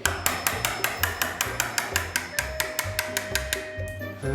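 A chisel is tapped into a wooden door to cut a recess for a hinge, giving a run of sharp, evenly spaced knocks, close and clear, with no talk over them.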